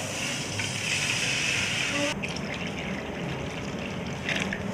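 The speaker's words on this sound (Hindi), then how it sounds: "चावलों को पानी में जो जितने चावल थे उस हिसाब से मैं पानी डालूँगी।" Water poured into a pot of rice, a steady broadband rush and trickle running close and fairly loud for about two seconds before easing into a softer splashing wash.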